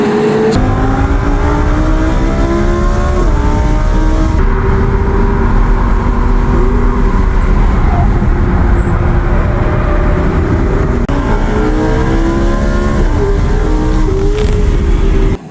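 Lamborghini sports car engine roaring loud and close from inside while driving, with repeated rising revs through the gears and a sustained heavy growl throughout.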